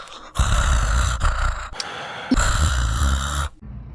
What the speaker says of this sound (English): I'm not criticizing the dude for his breathing, just their decision to allow that to come through on the audio track